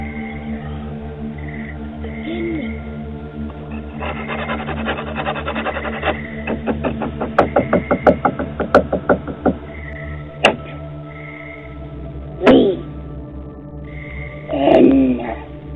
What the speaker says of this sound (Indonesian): Suara misterius itu juga terdengar menggaruk pintu rumahnya dan sedikit mengetok-ngetok pintunya.